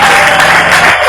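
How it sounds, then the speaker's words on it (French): Church congregation at a prayer marathon cheering and applauding loudly, a dense, steady wash of clapping and crowd noise filling the whole brief moment. "Est-ce que quelqu'un peut acclamer très fort?"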